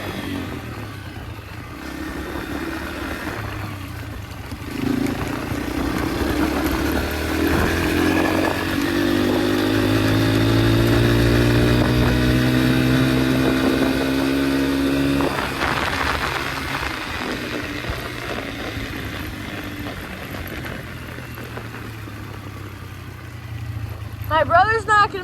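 A Yamaha dirt bike rides on trails, its engine droning steadily, then revving up with rising pitch and slowly falling away, heard up close throughout.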